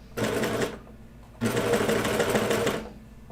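A sewing machine stitches kid's pajama bottoms in two bursts of close, loud mechanical whirring, a short run and then a longer one, separated by a quiet pause, with no voices.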